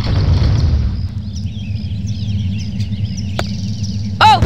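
A grenade blast in the video game Postal opens loud and booming, then decays over about a second, followed by faint chirping and a sharp pop near the end.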